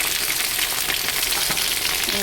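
Pointed gourd and eggplant sizzle steadily in hot oil seasoned with black cumin, a dense continuous frying hiss close to the pan with a few small stirring knocks.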